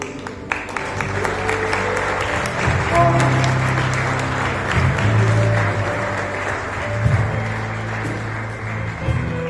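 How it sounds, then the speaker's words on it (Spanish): A church congregation applauds steadily for several seconds, the clapping sustained and fairly loud, with music or voices faintly mixed beneath. "¿Por qué no le damos un aplauso al Señor Jesucristo?"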